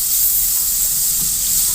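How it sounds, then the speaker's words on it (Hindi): Masala and tomatoes frying in a pan for a dal dish, a steady close hiss of sizzling oil with faint stirring clinks underneath. "मसाला अच्छी तरीके से भून चुका है और टमाटर भी मिक्स हो चुके हैं।"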